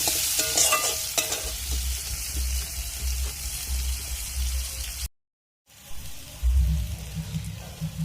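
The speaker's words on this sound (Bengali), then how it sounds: "এবার আমি আলুগুলো ভেজে নেব" Potatoes fry in a kadai while being stirred and scraped, producing a close, busy sizzle with spatula scrapes. A brief silent gap breaks the sound before the frying resumes, louder and bubbling.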